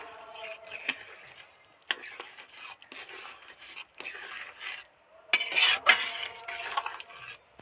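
An egg and potato bhurji mixture being stirred together in a pan, with soft, repeated scraping and clinking of a spatula against metal and a faint sizzle, growing louder near the end.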